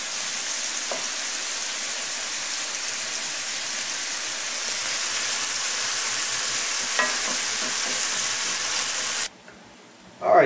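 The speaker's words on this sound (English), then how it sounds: "Stir this, turn this down to medium, and just keep stirring it a little bit at a time until it cooks down to soft" Vegetables cooking down in a pan for chestnut stuffing, a loud steady hiss of frying with occasional stirring scrapes, cutting off abruptly near the end.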